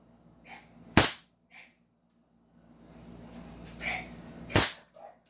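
Airsoft Desert Eagle or Hi-Capa pistol firing, two sharp cracking shots a few seconds apart, loud and close, with brief murmured voices and faint noise in between.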